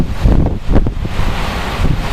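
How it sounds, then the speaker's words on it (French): Strong gusting wind from storm Caetano in Clermont-Ferrand roars and buffets the microphone, a loud continuous rush with surging gusts and no voices. "ça s'active assez fort au niveau des vents"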